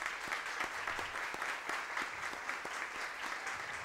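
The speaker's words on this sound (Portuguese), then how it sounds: "a quem eu peço uma salva de palmas" At a formal school tribute ceremony, an audience gives sustained applause, a steady wash of many hands clapping with occasional louder claps, distant and faint.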